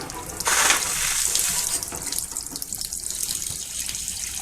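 Water rushes and splashes while washing out the inside top of a steam boiler, a steady hissing spray at moderate distance that starts abruptly and then settles into a fainter, uneven flow.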